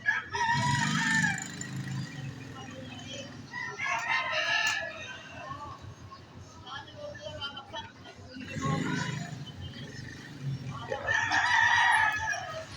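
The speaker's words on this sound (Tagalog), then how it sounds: "Kinukondisyon nila yung manok nila." Roosters crowing in long drawn-out calls, with clucking and chatter from a crowd around them, loud and close.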